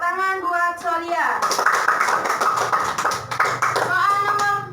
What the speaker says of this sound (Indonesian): Tepuk tangan buat Solia.